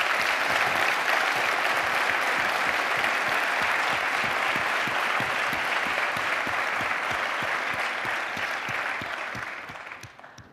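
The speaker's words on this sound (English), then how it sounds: "let's give all of them a round of applause." Sustained, dense audience applause fills a medical school white coat ceremony hall, loud and even for about ten seconds before fading out at the end.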